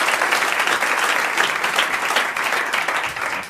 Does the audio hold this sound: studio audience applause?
yes